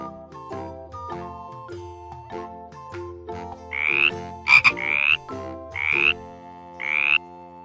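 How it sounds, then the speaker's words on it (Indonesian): Frog croaking in a guess-the-animal-sound game: a run of short rhythmic croaks, then several louder, rising chirpy calls in the second half, heard clearly with no speech. "Katak?"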